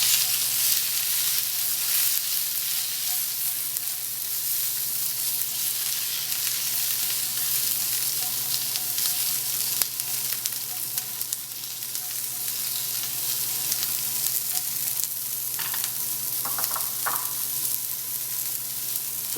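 Salmon fillet sizzling and frying steadily in a pan over moderate heat, a constant close hiss with no talking.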